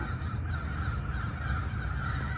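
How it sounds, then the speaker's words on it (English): A murder of crows cawing from trees in a neighbor's yard, heard outdoors from a patio as repeated harsh caws, moderately distant, over steady background noise. "I don't know if you can hear the murder of crows I got out here"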